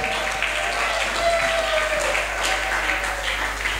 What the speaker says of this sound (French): Aplaudimos fortemente a palavra de Deus.